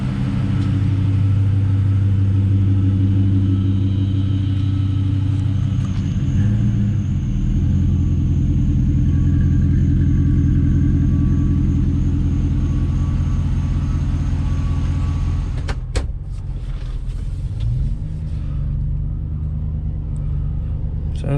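A 2008 Ford F150 XLT Lariat idles with a Flowmaster muffler replacing a Banks 3-inch exhaust, giving a loud, constant low rumble heard up close, with a brief shift near the end.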